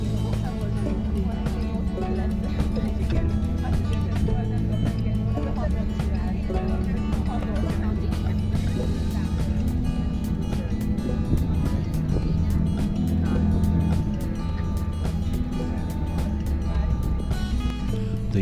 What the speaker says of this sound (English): The Three Cities Ferry crosses the Grand Harbour, passes Fort Sant'Angelo, and enters the Vittoriosa Inlet.